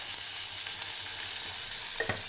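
Tomatoes sautéing with salt in a pan give a continuous close sizzle, with a brief scrape of stirring near the end.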